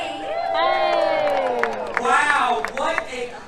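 Large crowd cheering, whooping and clapping at an Earth Day 25th anniversary celebration at a Disney animal park, loud and sustained with shouts rising over the applause and voices mixed in.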